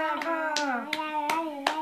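Several sharp hand claps land in a steady rhythm during a playful home session with a baby, under a sustained, sing-song voice.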